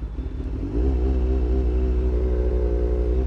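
A Honda Fireblade superbike engine runs rough at idle, a close, loud, uneven thrumming that steps up in pitch and chugs with a wavering, lumpy rhythm.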